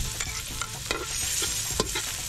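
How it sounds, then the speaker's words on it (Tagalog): Crushed garlic sautéing in a pan, a steady sizzle of frying with a few clinks and scrapes of stirring, close and continuous with no talking. "So ang una po nating gagawin ay magigisa ng dinurog na bawang muna."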